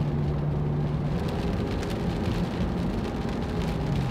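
Rain falling steadily on a lake at Eufaula, Alabama during bass fishing practice, a dense continuous hiss and patter with a low rumbling undertone, close and unbroken throughout.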